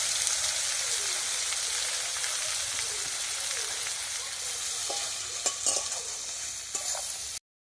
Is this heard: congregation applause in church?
no